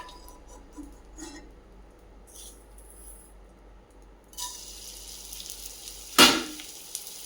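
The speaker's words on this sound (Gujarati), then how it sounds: "આ રીતે આપણે બધો ગુંદ તળી લેશું." Edible gum resin sizzles and crackles as it fries in hot ghee over a medium flame, quiet at first and then a steadier hiss, with a brief clink of a utensil near the end.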